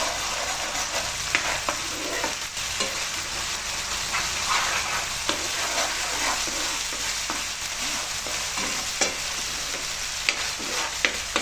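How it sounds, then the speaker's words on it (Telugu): Ginger garlic paste and chicken fry loudly in a pan, a dense continuous sizzle broken by occasional stirring scrapes, close up and without speech. "ఇందులో కూడా వేసుకొని బాగా వేయించుకోవాలి. ఈ విధంగా వేయించుకోవాలి."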